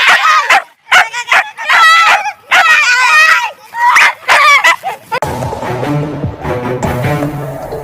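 A cartoon dog barks and yips in loud, rapid bursts, some whimpering and high-pitched, close and dominant in a Gujarati comedy cartoon, followed by a more muffled, mixed stretch of sound.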